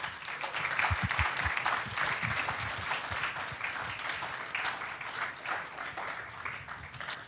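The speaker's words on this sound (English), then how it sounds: "Let's give these presenters, or these debaters, I should say, a round of applause." A lecture-series auditorium audience claps for debaters in steady, moderately loud applause that holds for several seconds without talk over it.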